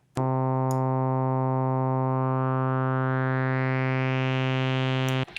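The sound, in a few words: synthesizer tone with sustain turned up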